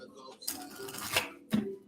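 Tarot cards from The Light Seers Tarot deck are shuffled in two quick riffling bursts, close and crisp, with a quiet voice murmuring in between.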